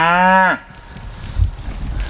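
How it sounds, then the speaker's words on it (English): A cow lets out a single loud, drawn-out moo close by, followed by quieter rustling and low farmyard noise. "here comes the more cows to nag me"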